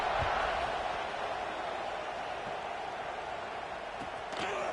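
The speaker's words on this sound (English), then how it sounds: "this crowd is buzzing after that last score" A college football stadium crowd buzzes in a broad steady roar, distant and sustained, with a few faint thumps and a commentator's voice over it.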